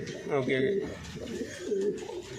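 High-flying pigeons in a loft coo in a few soft, throaty bursts, close by, while someone talks over them.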